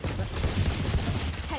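Gunfire in a first-person shooter game, a quick run of sharp repeated shots over about a second and a half, moderately loud with a faint voice underneath.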